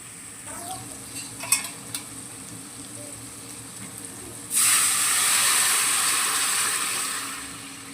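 Tomato rasam is poured into a pan of frying ginger garlic paste, a few utensil clicks over faint sizzling, then a sudden loud, sustained hiss and bubbling that slowly eases.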